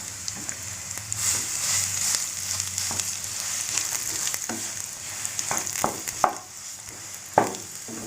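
Ground dates dropped into hot ghee in a pan for a sugar-free dates and nuts ladoo, sizzling and frying steadily with stirring scrapes and a few louder spatula clanks toward the end.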